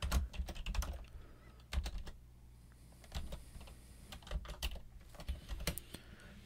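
Someone types a SQL select statement on a computer keyboard, producing close, quiet, irregular clusters of key clicks with short pauses between bursts, and no voices.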